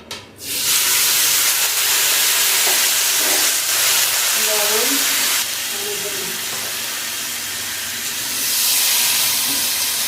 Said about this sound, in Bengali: এগুলো ভাজা হয়ে গেল তেলের মধ্যে লাউ ডাঁটা আর আলুগুলো দিয়ে দেবো